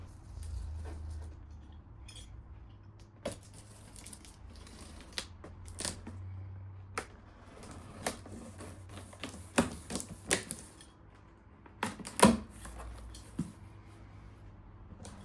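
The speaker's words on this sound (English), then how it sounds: "Clear sellotape has been used to completely seal the box, so I'm using a Stanley knife to open it" A Stanley knife slices through clear sellotape sealing a pressure washer box, giving a series of scattered short scraping and tearing clicks with small pauses between them, close and fairly quiet.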